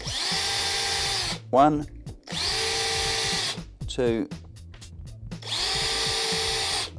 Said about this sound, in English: Then drilling a hole.